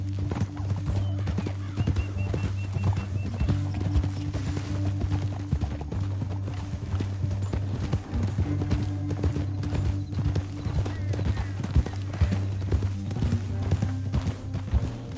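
Horse hooves clip-clop steadily and rhythmically at a trotting pace in Red Dead Redemption 2, loud and close, over a constant low rumble with an occasional whinny.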